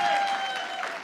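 Steady audience clapping at a candidate forum, brief and moderately loud, a continuous patter of many hands with a faint tonal hum underneath.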